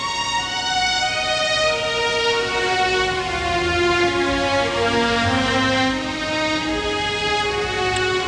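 A Paris-Lyon train pulls in, its long sustained horn or whistle tones layered over a steady rolling rumble of railcars that holds strong for the whole stretch, with no talk.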